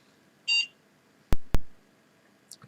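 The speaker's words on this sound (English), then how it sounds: "Beep." A computer gives short electronic beeps as an Ubuntu Server 20.04.1 LTS machine reboots after installation: one clear tone early on, then two sharp clicks and a faint blip near the end, in a quiet room.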